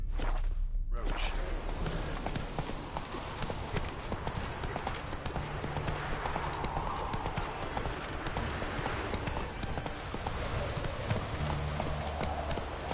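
Horse hooves clip-clop steadily at a walking pace in The Witcher 3, a continuous rhythmic clatter over ambient game sound with faint whooshes throughout.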